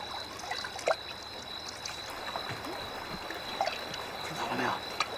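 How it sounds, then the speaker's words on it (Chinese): Water trickles faintly out of a crack in the ground, a soft continuous wash with a few tiny splashes and drips scattered through it, heard close but quiet. "是水声吗？"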